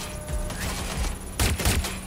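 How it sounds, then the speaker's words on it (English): Gunshots ring out in the video game Watch Dogs as a few loud, sharp cracks burst close together, the heaviest cluster near the end of the short span. "Shots fired!"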